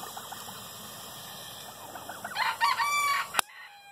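A rooster crows once, fairly close, its rising then falling call ending abruptly, over a quiet background with a faint hum.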